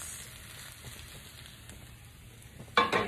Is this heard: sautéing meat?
yes